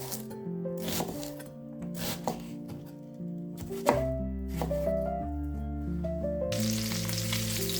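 Onion being chopped on a cutting board in a home kitchen, a series of sharp knife strikes with irregular spacing, heard close and moderately loud over steady background music.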